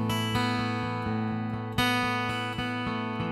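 Acoustic guitar from a Martin played through a Zoom A1 Four pedal on factory preset 10, with sustained strummed chords that ring out and are restruck twice, loud and close with no voices.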